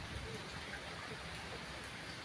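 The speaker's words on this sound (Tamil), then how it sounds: "மழை பெஞ்சிட்டு இருக்கு" Rain falling outdoors in a village during cooking, a soft, even patter that holds steady throughout, with no voices.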